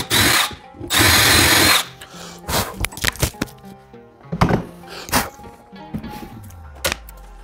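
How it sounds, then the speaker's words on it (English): A power drill with a 1/2 inch bit bores through wood, sending two strong whirring bursts at close range, followed by scattered clunks, knocks and handling noises of the tool and workpiece. "you're gonna take a 1/2 inch drill bit and go ahead and drill right through both of those."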